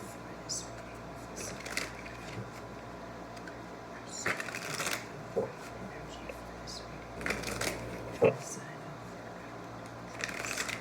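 Tarot cards shuffled and drawn by hand: soft riffling and papery slides, with a few sharper bursts of shuffling and light card snaps, close and fairly quiet.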